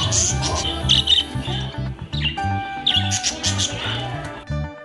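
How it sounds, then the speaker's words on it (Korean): Parrots chirp and squawk in a busy indoor parrot cafe, with bright repeated calls and whistles rising over a dense, steady mix of background voices and room noise. "이곳은 앵무들의 쉼터입니다."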